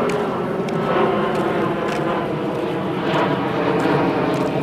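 An airplane passes overhead near the hilltop Dhauli Shanti Stupa and Shiva temple in Bhubaneswar, a steady broad engine roar filling the outdoor air at moderate volume, with no speech.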